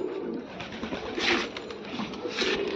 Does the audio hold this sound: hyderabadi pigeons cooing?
yes